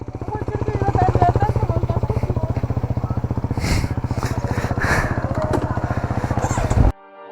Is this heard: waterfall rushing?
no